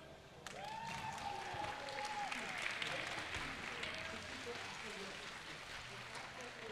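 A crowd at a fighting-game tournament's top-eight finals claps and cheers for several seconds, the applause steady and moderately distant, fading slightly toward the end.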